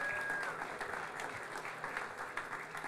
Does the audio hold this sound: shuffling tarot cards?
no